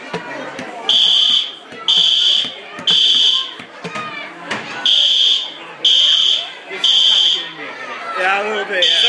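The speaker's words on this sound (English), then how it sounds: "Here we are at Cheddar's, and the fire alarm went off." A restaurant fire alarm sounds in loud repeating high-pitched electronic bursts, about a second on and a second off, over background chatter and voices in the dining room.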